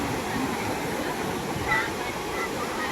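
Falling water of a hillside waterfall at a crowded tourist spot roars steadily and loudly as a broad wash of noise, with faint voices mixed in.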